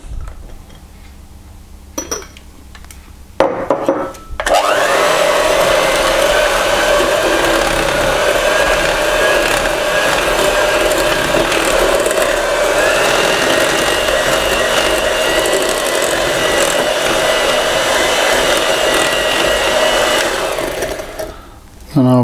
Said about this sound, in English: then I'm going to be using that electric hand mixer, about 2 or 3 minutes